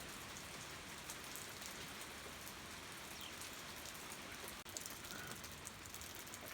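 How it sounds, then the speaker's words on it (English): Slow, light rain falls steadily outside a barn, a soft continuous patter of drops on surfaces with no voices, holding an even level throughout. "it's raining enough to get a drip."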